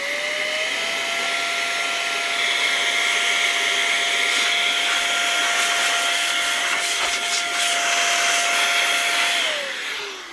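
A Jbonest electric compressed air duster blows air at its lowest setting. A steady high-pitched motor whine and whoosh of rushing air run close and loud for about nine seconds, then spin down at the end.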